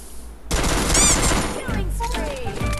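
UMP submachine gun fire in a shooter video game, a sustained dense burst of rapid shots with sharp tonal whines and ricochet-like sweeps over a low rumble, loud and close.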